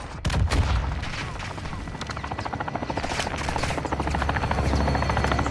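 A helicopter gunfire run in Call of Duty Modern Warfare II: a steady rotor drone under loud, sustained rapid gunfire bursts, close and dense throughout, with some game voices mixed in.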